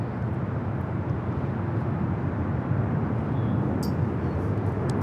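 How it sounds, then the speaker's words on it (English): Broad, continuous jet rumble from a FedEx Boeing 767-300 freighter at LAX, a loud, steady wash of engine noise with no break across the whole stretch. "767-300 freighter."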